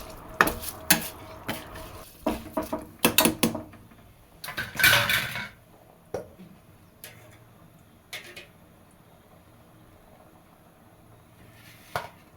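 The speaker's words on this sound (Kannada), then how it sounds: "ಈ ಥರ ಒಂದು ಸ್ವಲ್ಪ ಚೆನ್ನಾಗಿ ಮಿಕ್ಸ್ ಮಾಡ್ಕೊತಾ ಇದ್ದೀನಿ." A metal spoon scrapes and clanks against a pot while rice and chicken are mixed with masala for biryani, in uneven bursts of stirring that trail off into sparse taps.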